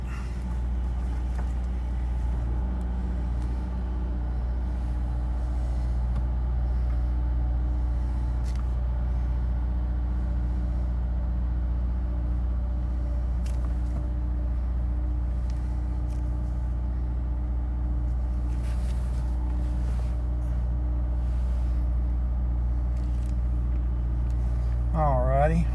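A Honda S2000 idles steadily after starting, a low, even engine hum holding constant for the whole stretch, with a brief higher-pitched sound near the end.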